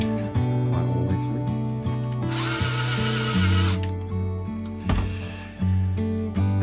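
A power drill bores a hole through the middle of a wooden table aboard a sailboat, its motor whining loud and close in steady runs, with short pitch shifts and harsher grinding bursts as the bit cuts through.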